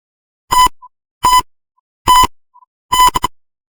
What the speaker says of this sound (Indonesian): jika kita dekatkan, maka alarm akan berbunyi